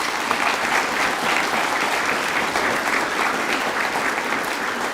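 Audience at a high school co-curricular prizegiving applauding students, a sustained, even wash of clapping from a large crowd heard at moderate distance, continuing throughout without speech.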